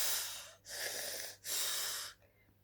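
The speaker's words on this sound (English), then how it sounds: "snoring her head off" A sleeping woman snores and wheezes, with two long, raspy, breathy drawn breaths separated by short pauses, close and fairly faint.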